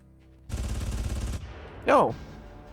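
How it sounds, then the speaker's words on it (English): A rapid burst of automatic gunfire aimed at the player in Far Cry rattles for about a second, then a short vocal cry or shout rises over a quieter background. "Where are they shooting me from?"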